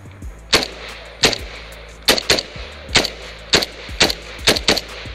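AK rifle firing single shots outdoors, about nine loud sharp cracks at irregular intervals, each with a quick ringing tail, no voices between shots.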